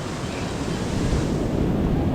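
Heavy ocean surf crashes and churns continuously, a loud roar of strong breaking waves mixed with gusty wind buffeting the microphone.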